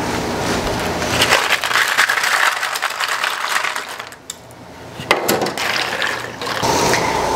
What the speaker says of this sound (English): I'm just going to fill this up with cold water